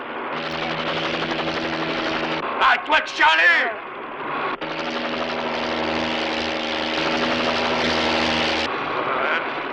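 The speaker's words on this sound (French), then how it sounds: "Hélicoptère de la police!" A police helicopter passes overhead, its rotor and engine forming a loud, continuous throbbing drone while someone shouts over it and brief vocal outbursts break in midway.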